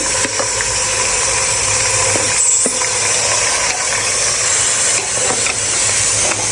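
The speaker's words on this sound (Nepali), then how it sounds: "अब घिउ तातिसकेपछि हामीले चामललाई हेराउँदैछौँ।" Rice stirred and frying in hot ghee for a Nepali latte bhaat, a steady loud sizzling hiss running throughout with occasional faint scraping clicks.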